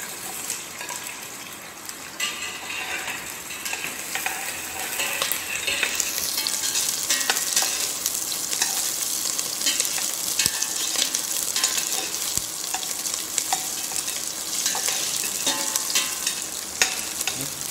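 Onions frying in hot fat for a brown stock give a loud, continuous sizzle that swells after the first few seconds, with light stirring noises throughout.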